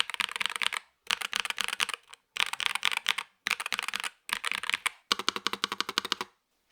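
Someone types on a stock, unmodified Nuvi keyboard in six quick bursts of crisp, clacky keystrokes separated by short silences. The sound is close and moderately quiet, with no talk.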